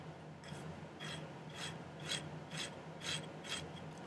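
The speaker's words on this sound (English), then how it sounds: "I'm going to go ahead and file the end of this flat" A metal file rasps across the end of a silver ring to square it flat while making a turquoise ring, with about nine slow, even strokes, close and fairly quiet.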